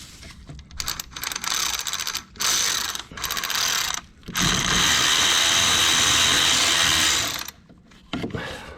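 A new clamp being tightened on a 1985 Pontiac 6000 wagon, heard as bursts of fast ratchet clicking that stop and restart several times, with one long, steady run of ratcheting in the middle.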